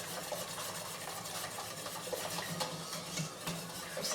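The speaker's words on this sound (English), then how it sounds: "Now, slowly whisking so that those eggs don't curdle." Steady whisking of tempered eggs into pastitsio sauce, a soft continuous scraping with light clinks of utensil against the pot, even and fairly quiet throughout with no talking.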